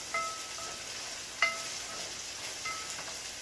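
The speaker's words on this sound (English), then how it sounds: "After you stir your onion and get your onion, get that flavor out of the onion in the oil." Onion fries in oil in a pan with a soft, steady sizzle, broken by a few faint stirring clicks and taps, with no voices.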